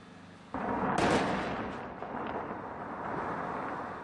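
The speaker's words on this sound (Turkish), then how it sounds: "IŞİD'li teröristler Hz. Yunus'un kabrini dinamitlerle havaya uçurdu" A single sudden dynamite blast demolishing a tomb booms out, followed by a rolling rumble that slowly fades into lingering low noise.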